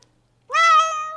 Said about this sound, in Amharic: የድመት ድምፅ እንትን ሚያው ሚያው ሚያው ዳመጥ ነው